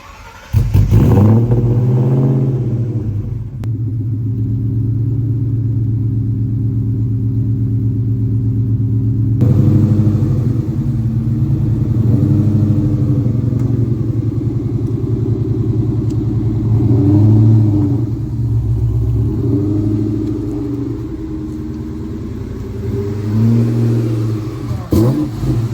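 A Ford SVT Cobra engine runs loud and close at a steady rumbling idle, with a few throttle blips and revs rising over the low drone throughout.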